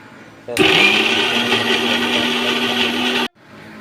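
A mixer grinder whirs as it blends grated coconut, roasted peanuts and two or three red chillies into chutney. It starts abruptly, runs at a steady high-pitched whine for nearly three seconds and then cuts off sharply, with no talking.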